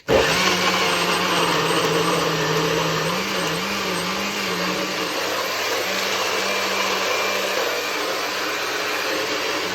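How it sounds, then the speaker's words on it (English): A blender runs continuously, blending a pineapple and cucumber detox drink. The motor whirrs loud and steady throughout, with its pitch wavering slightly as the blades work through the fruit, and there is no talking. "So we're gonna quickly give this a blend."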